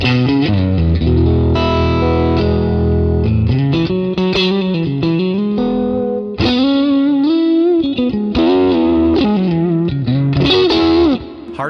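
A Fender Deluxe Reverb tube guitar amp played with a thick, effected, slightly distorted tone, sustained chords and melodic lines ringing continuously and loud for the whole stretch, with no voices.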